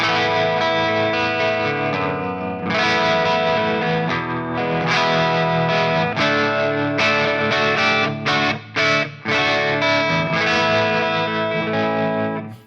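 Electric guitar running through a compressor into a pushed amp in Guitar Rig 7 software, dense distorted chords and riffs played loud and continuously, with a couple of brief stops near the end, no voices.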